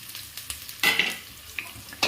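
Onion, curry leaves, chillies and poppy seeds frying in a pan, with soft crackle and a few sharp sizzling bursts as they are stirred, close and unvoiced.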